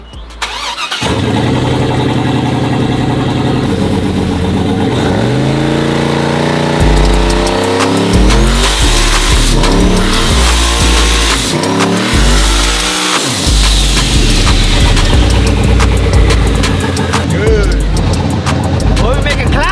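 A big-turbo SS clone car doing a burnout, with the engine revving hard and roaring loud and close for the whole stretch, pitch rising and falling through the gears under excited voices.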